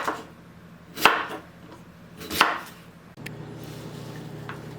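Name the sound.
cutting cassava with a knife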